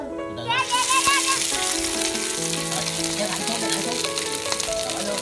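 Climbing perch deep-frying in hot oil, making a loud, dense, steady sizzle that crackles continuously throughout.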